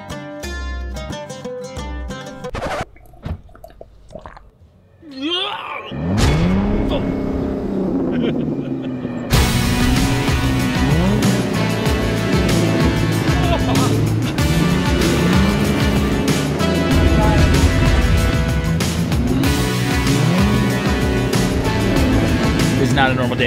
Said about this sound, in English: We are driving through the sand dunes right now outside Abu Dhabi in the UAE.